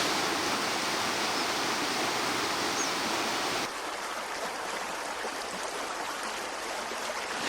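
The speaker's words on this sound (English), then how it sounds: "Here on the rocks in this small forest waterfall, we see something quite surprising because water is flowing everywhere." A small forest waterfall pours over rocks in the Sri Lankan foothills near Kitulgala, a steady close rushing roar that continues unbroken and turns slightly softer partway through.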